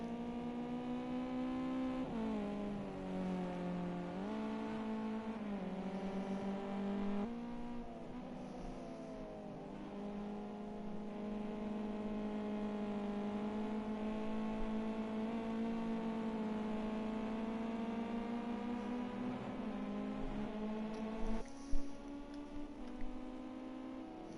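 Ginetta race cars rev and scream around the Nurburgring circuit in a sim racing sprint, a continuous high engine drone rising and falling through gear changes, with a brief tire squeal near the end.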